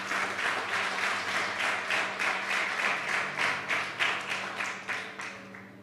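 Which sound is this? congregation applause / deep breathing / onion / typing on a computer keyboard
congregation applause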